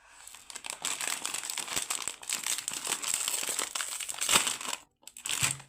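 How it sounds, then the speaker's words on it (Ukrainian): Close, crisp crinkling and tearing of plastic wrapping as a Lasunka ice cream cup is unwrapped, a busy continuous rustle that briefly drops out near the end before a last crinkle. "Щось тут пишуть з комбінованим складом сировини будемо розпаковувати."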